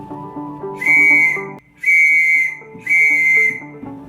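Morse code letter O: three long sustained whistle tones in a row, evenly spaced with short gaps, over continuous background music.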